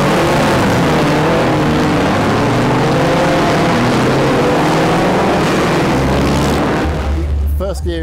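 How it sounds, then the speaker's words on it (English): Chain-driven vintage race car revving hard at a standing start on the Goodwood line, a loud continuous engine roar that rises as the wheels spin and the car launches away, shifting tone toward the end. "let go of that, loads of welly, spin the wheels up and off we go"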